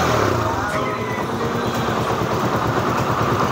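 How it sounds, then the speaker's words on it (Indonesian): A 2015 Honda CB150 motorcycle engine idling with a steady low rumble, close and continuous, with a person talking over it. "Ini mesin masih nyala."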